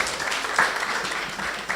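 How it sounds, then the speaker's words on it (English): Brief applause from a room audience at an energy-sector panel dialogue, a short, fairly close burst of many hands clapping. "A round of applause for our wonderful panelists."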